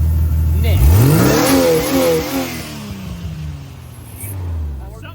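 Budget side-by-side with a crankshaft near failure and aluminum pistons, its engine revving hard and climbing in pitch before easing off and settling to a rougher idle, close up, with voices talking over it.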